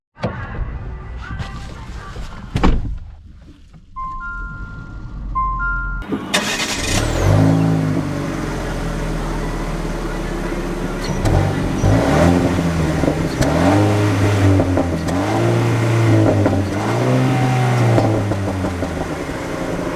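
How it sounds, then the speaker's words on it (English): A 2021 Jeep Renegade 80th Anniversary Edition cranks and fires up after a quiet pause, then its engine settles and revs as the compact SUV pulls away, a steady close drone with rising and falling pitch sweeps under faint cabin noise. "Let's take her out and see how she drives."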